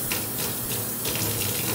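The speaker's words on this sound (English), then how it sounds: "So let me rinse my hands." Tap water runs steadily into a kitchen sink as hands are rinsed beneath it, a close, continuous gushing splash that shifts slightly as the hands move through the stream.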